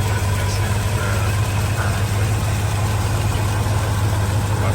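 Original 305 engine of a 1985 Chevrolet K10 Scottsdale pickup idling, a steady low rumble with a constant hum, close and even throughout, no talking.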